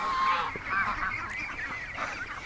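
Ducks being shut in for the night give loud, continuous nasal honking calls that overlap close by, with no talk.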